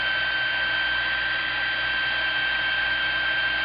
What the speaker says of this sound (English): Now, I'm going to get the heat gun and dry this off.